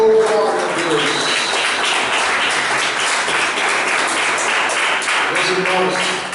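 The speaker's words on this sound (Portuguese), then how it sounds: "Dá uma salva de palmas para Deus." A church congregation applauds during a service, a dense, steady wash of clapping from many hands that fills the space without a break.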